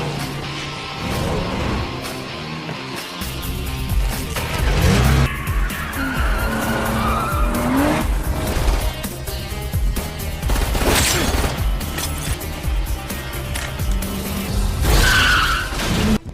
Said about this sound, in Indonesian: Donna terpisah dari Smith, sementara Smith melarikan diri bersama Oliver menggunakan mobil curian.